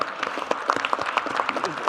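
An audience claps steadily at a Korean government briefing, a dense patter of many hands continuing evenly throughout with no voices over it.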